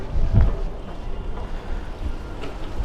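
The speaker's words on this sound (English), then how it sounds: "Oh my god, it got windy. So windy." Strong outdoor wind blasts the microphone with a loud, rumbling gust at the start, then keeps up a rough, steady buffeting.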